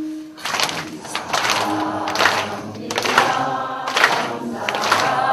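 Group clapping keeps time with worship singing at a Korean church praise class, the claps landing in rhythmic bursts under the loud voices and music.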